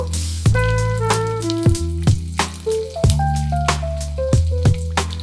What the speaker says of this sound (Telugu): ఇంకా బాగా దోరగా వేయించుకోవాలి శనగపప్పు మినప్పప్పు బ్రౌన్ కలర్ వచ్చే వరకు వేయించుకోవాలి